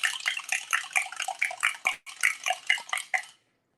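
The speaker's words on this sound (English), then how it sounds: "we're going to stir up the sugar" A spoon stirs sugar into water in a bowl to dissolve it for activating yeast, making repeated rhythmic swishing, clinking strokes, close and clear, with a brief pause midway before stopping.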